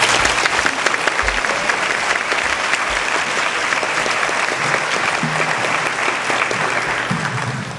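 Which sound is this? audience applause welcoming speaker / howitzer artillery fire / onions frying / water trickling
audience applause welcoming speaker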